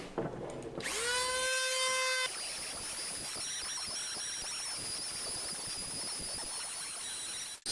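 A high-pitched Dremel rotary tool with a sanding bit whines up to speed and keeps grinding steadily on deer antler, its loud buzzing tone wavering slightly against the hard surface.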